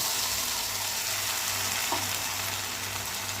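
Mint paste sizzles steadily in a hot pan, a constant frying hiss with a brief stir partway through.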